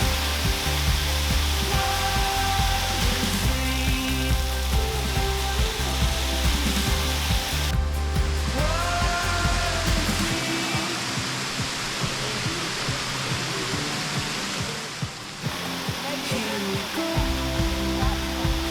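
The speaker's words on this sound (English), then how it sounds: "So we just made it down to the base of the waterfall." Broad, steady roar of water pounding at the base of a waterfall reached by a short hike, loud and continuous throughout with a brief dip in intensity near the end.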